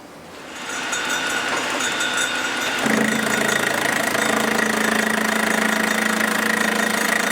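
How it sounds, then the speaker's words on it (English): A first-generation Dodge Cummins diesel runs steadily near at hand with its fan hub spinning, a constant engine drone that thickens and grows louder about three seconds in, then holds even to the end. "if you watch how that hub itself is spinning, not the hex here, you can see this hub is spinning very true"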